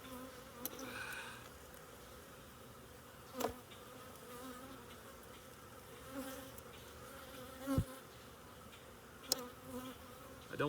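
Honeybees buzzing steadily around an open hive during a frame inspection, a dense, faint drone throughout with a few sharp knocks and clicks from handling the frame.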